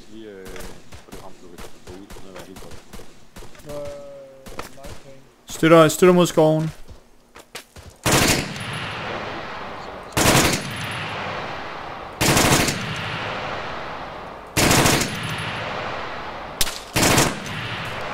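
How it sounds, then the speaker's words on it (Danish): Arma 3 gunfire: bursts of rapid shots interrupt a man's speech, followed by a series of loud, evenly spaced single blasts. "der er en masse skud"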